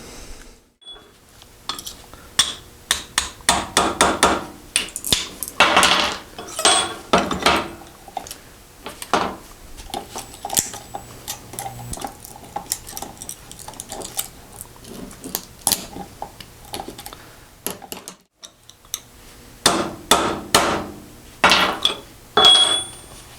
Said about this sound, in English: I'm going to go get my chisel just to spread that out just a little bit.